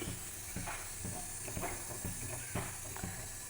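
Dal and drumstick stir-fry boils in a pan, with a steady close hiss of steam and bubbling and faint rhythmic ticks throughout.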